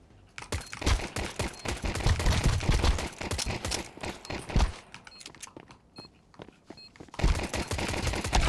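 Gunfire in a shooter video game, with dense rapid bursts and single shots, loud and close, thinning out midway before another heavy volley at the end, with no voices.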